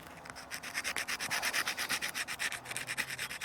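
Rhythmic back-and-forth scrubbing strips rust and corrosion from the front brake caliper of a Lexmoto Venom motorcycle, with roughly two brisk strokes per second, close and steady, without talk.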